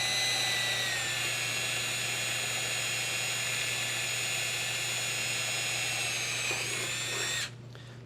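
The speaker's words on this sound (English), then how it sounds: "We're going to go ahead and drill this other rivet out." A steady, high-pitched power drill whines continuously close by for several seconds drilling out a rivet in sheet metal, then cuts off near the end.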